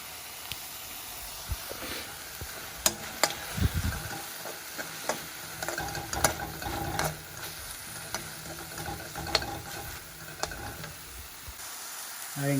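Samosa filling of onions, cilantro and ginger garlic paste cooking in a pan, a low continuous sizzle with scattered clicks and spoon scrapes, a few louder taps, heard alone up close.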